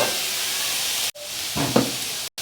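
Momo vegetable filling roasts in a hot pan, giving a loud steady hiss and sizzle with two brief dropouts and a few scraping stir sounds in the middle.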